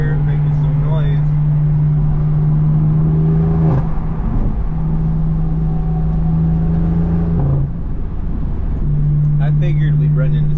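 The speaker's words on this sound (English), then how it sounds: "I've got a Beamer right here making some noise." A BMW M4 F82 with a loud exhaust drones nearby, with a steady low exhaust tone that rises briefly in a couple of revs before settling back.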